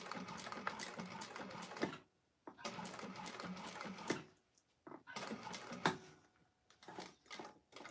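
Sewing machine stitching with a long stitch length through several layers of a clutch wallet, running in close rapid bursts of a couple of seconds each, separated by brief pauses.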